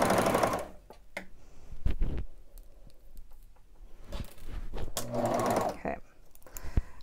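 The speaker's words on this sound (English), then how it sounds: "So I have my neck band, or at least the back one, sewn into my back and side pieces." Sewing machine stitching a neck band onto a shirt, short bursts of mechanical needle chatter broken by pauses and fabric handling, with a person talking in between.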